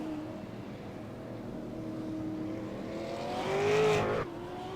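Super late model race cars drone around the Milwaukee Mile oval with a steady engine hum. One car grows louder as it passes close and then fades off.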